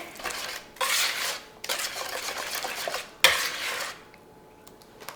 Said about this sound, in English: So I'm gonna whisk this together.